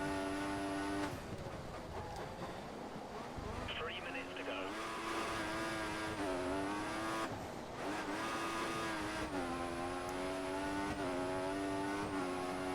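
Racing engine of an F1 car in the video game F1 2014, a steady loud whine rising and falling through gear changes across the clip, with a voice talking over it.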